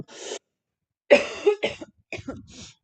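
A few short, sharp coughs in quick bursts, close up and alone, separated by brief silences.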